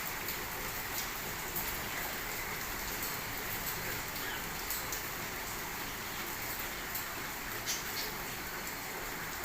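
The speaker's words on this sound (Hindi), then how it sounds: "खूब बारिश हो रही है।" Heavy rain falls steadily in the early morning at Bahria Town, Rawalpindi, a dense continuous hiss with scattered nearby drip and splash accents throughout.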